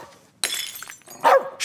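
Dog barks in the As Dusk Falls video game, two sharp loud bursts close by with a crash-like attack and a brief quiet gap between them, with no talking.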